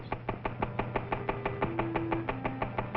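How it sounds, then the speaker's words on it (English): A test engine running on low-octane fuel knocks in a steady, evenly spaced series of sharp metallic raps, about seven per second, over a constant low running hum, fairly close and loud, with no talk. "This test engine is equipped with a dial indicator that shows just how badly the engine is knocking."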